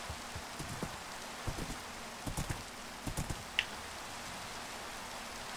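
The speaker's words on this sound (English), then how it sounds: "Whew, so much rain." Heavy rain comes down steadily as a dense, even hiss, with scattered nearby drips and patters standing out now and then.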